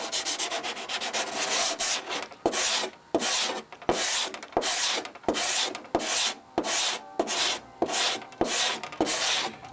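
Sandpaper rubs back and forth over the wooden wing of a model aircraft in steady, evenly spaced strokes, each a dry rasping burst with short pauses between, close and clear with no talk.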